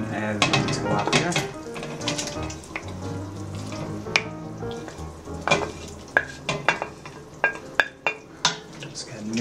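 Tilapia being mixed into a simmering cioppino seafood stew in a pot, with a utensil clinking and scraping against the metal in a run of sharp knocks over a low simmer, a voice speaking briefly.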